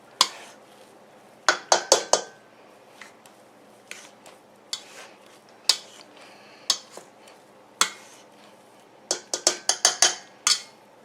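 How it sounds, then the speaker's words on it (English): Garlic potatoes for a Greek dish are mashed together in a bowl. Sharp clinks and taps of the utensil against the bowl come in irregular clusters, close and fairly loud, over a quiet background with no speech. "we're going to go ahead and mash this all together"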